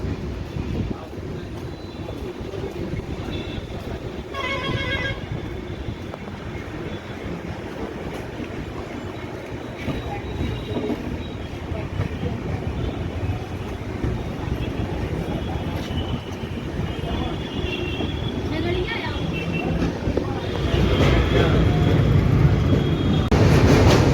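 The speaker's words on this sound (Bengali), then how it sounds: "১০:১২ ট্রেন ছাড়বে।" Indian Railways 13151 Kolkata–Jammu Tawi Express pulling away, sleeper-class coach interior with a steady low rumble and rail noise building louder toward the end, faint background voices.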